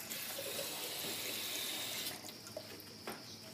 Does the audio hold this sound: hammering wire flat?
no